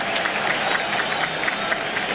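A stadium crowd at a 1999 Chiefs vs Ravens NFL football game: a steady, dense roar of cheering from a large crowd, heard at a distance and sustained throughout.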